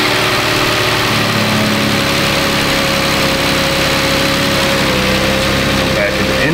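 A Kia car engine idles steadily after being started, a constant mechanical drone with a faint high whine running through it, loud and close for the whole stretch, with some low voices underneath.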